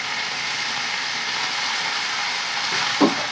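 Tomatoes fry in a pan with a constant, fairly loud sizzling hiss and a small clatter near the end.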